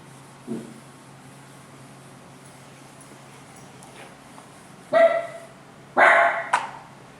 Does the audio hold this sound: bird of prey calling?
no